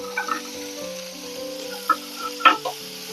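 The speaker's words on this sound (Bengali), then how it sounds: "এর মধ্যে মাছগুলো দিয়ে দেবো।" Fish pieces dropped into a hot pan for pan-fried chilli fish, giving a few brief close sizzles and clatters over a low steady frying hiss.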